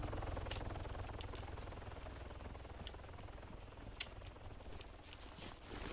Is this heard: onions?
no